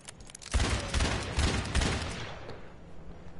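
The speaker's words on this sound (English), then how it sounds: "Take the rocket that does the booping and shoot it about right here" A video game rocket launcher fires several rapid blasts in a row, each a loud booming burst with a rumbling tail, then the sound fades out.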